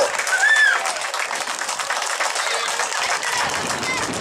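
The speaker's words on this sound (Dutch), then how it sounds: "Applaus voor jullie allemaal." Crowd applause after a New Year's dip charity fundraiser in Assen, a steady broadband clatter of many hands continuing throughout at moderate loudness, with a faint voice briefly near the start.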